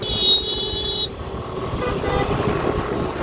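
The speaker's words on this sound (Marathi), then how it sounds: "या माणसाला जास्त घाय झाली म्हणून हॉन वाजवतो" A vehicle horn toots briefly in road traffic, heard against steady engine and traffic noise inside a moving vehicle.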